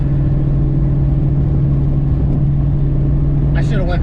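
A car engine cruising steadily in fifth gear at 75 mph, about 2,400 rpm, gives a constant low drone with road and wind noise throughout, and a brief higher sound comes near the end.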